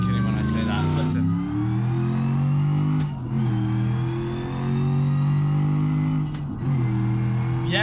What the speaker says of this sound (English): You gotta love a good manual muscle car with a V8, bro.